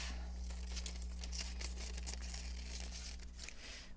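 Paper being cut for a collage with scissors or a blade, a quiet close crinkling and snipping that runs steadily over a low steady hum, with no talking.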